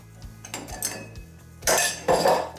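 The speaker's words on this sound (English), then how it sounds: "you might want to start off first by taking out any cutlery that you may already have" Metal cutlery clinks and clatters as it is lifted out of the rack of a Currys Essentials dishwasher, with scattered light taps early on and two louder, denser bursts of rattling near the end.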